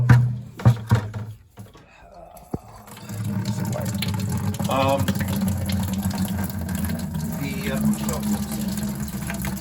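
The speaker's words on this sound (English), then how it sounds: "Let's take some water out of the boiler, by the way. Drain that." Water drains steadily from a steam boiler through an opened ball valve, a continuous low rushing flow that follows a few knocks and handling sounds near the start.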